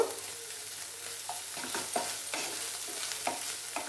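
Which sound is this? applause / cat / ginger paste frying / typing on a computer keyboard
ginger paste frying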